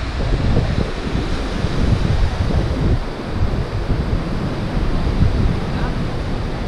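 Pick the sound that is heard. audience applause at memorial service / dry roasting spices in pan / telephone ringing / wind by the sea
wind by the sea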